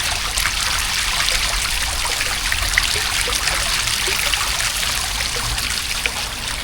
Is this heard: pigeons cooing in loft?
no